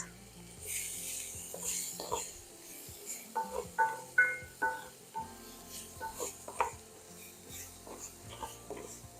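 Chopped shallot sizzling in olive oil in a charred pan over low to medium heat, a steady low hiss with scattered soft crackles and a few utensil clicks, fairly close and without talk.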